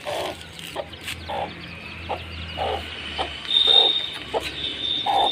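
Hen and young chicks clucking in a small flock, repeated short clucks at a steady rhythm with thin high cheeps over them, close and moderately loud, no talking.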